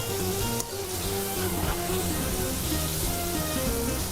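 Keema left cooking in a pan gives a continuous, close sizzle with faint bubbling and light stirring, even and unbroken.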